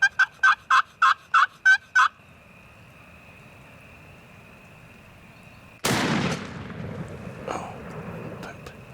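Several turkey gobbles ring out, then after a short quiet gap a single loud gunshot is fired at a wild turkey about 80 yards away, its sharp blast trailing off into echo.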